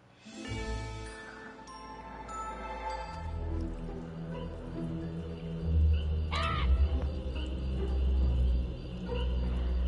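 Crows caw in the Pumpkin Jack video game, a few harsh calls rising above a loud, rumbling orchestral score that swells steadily throughout.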